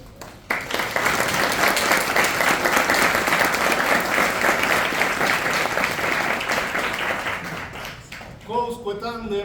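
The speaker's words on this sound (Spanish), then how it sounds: "pido un fuerte aplauso para el doctor" Strong, sustained applause from a lecture audience welcoming a doctor speaking on Cicero's De republica, dense steady clapping lasting several seconds before tapering off as a voice begins speaking.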